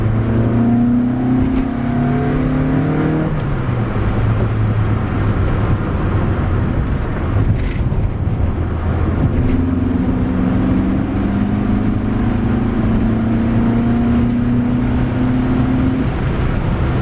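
A VW Golf Mk1 with a swapped 2.0L 8v engine and Dellorto DHLA carburetors on a first test drive, engine droning loudly from inside the car and rising through gear changes with no talk.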